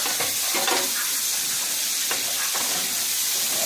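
Onion, bacon and garlic frying together in a pan for chicken carbonara spaghetti, a loud continuous sizzle broken by several scraping stirs, close and without talk.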